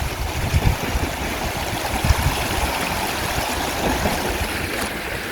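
A mountain river flows past a riverbank where people wash clothes, giving a steady, close rushing and gurgling wash of water with no voices.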